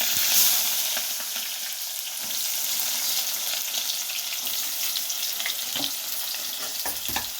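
Green chillies, curry leaves and onion with cumin and mustard seeds frying in hot oil in a pan, a steady loud sizzle with scattered crackles and occasional stirring clicks, no voices.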